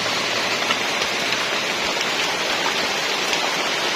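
Heavy rain pours down around a treehouse in a steady, dense hiss with no breaks, close and continuous and with no voices.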